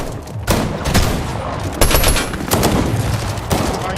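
Gunfire in the video game Fortnite during a competitive grand finals match, loud and close, with repeated bursts of rapid shots that overlap into a dense, continuous barrage.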